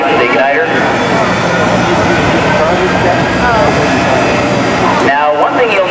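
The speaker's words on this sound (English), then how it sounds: "Turbine comes to life, the igniter." A jet truck's turbine running on canola biodiesel, lit by its igniter at an outdoor car show, roars loud and close as a sustained howling whine with a steady, unbroken drone.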